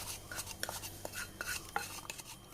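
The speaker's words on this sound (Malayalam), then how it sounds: "നല്ല പോലെ നമുക്കിത് ഇളക്കി കൊടുക്കാം" Rava and milk stirred in a pot for caramel thari kanji, a spoon clinking and scraping against the metal in a steady irregular rhythm, close and fairly quiet with no talking.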